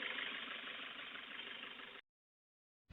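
A repaired Toyota Hiace 2KD diesel engine, fitted with new piston rings and a new shaft and with its valves reset, idles in a close, even, knocking chug for two seconds, then cuts to silence.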